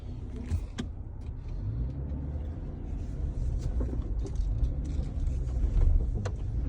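A car with ABS wheel speed sensor and traction control trouble drives with a low engine and road rumble from inside the cabin, the drone rising somewhat toward the end as it struggles to pick up speed, with a few light clicks and rattles.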